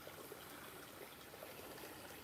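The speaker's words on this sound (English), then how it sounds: "Just hear the sound of just the water running." Steady, gentle rush of stream water running over rocks in hilly country, a continuous close wash with no breaks.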